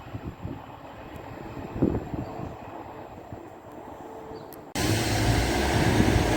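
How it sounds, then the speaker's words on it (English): A triple-unit Class 158 diesel train departs North Queensferry on an Edinburgh Waverley to Glenrothes service, giving a steady low rumble with wind buffeting, then a sudden louder, fuller roar as it passes close. "Departing is a triple 158 service from Edinburgh Waverley to Glenrothes with Thornton via Kirkcaldy."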